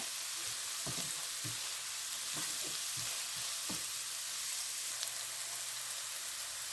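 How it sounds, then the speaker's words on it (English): Leeks and vegetables sweating in a seasoned pan for a shrimp and salmon linguine, a steady soft sizzle up close with a few light stirring clicks. "let those vegetables, those leeks, kind of sweat out a little bit"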